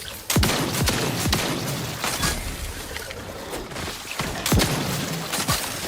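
A shotgun in The Outer Worlds 2 fires repeatedly amid a chaotic battle, sharp booming blasts at irregular intervals over constant combat noise, loud and close.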